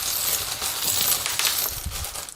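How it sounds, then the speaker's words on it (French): A small metal charm drops onto a table during a tarot reading, giving a brief metallic clinking and rattling among soft handling noise, close by and without speech. "On a une breloque qui est tombée"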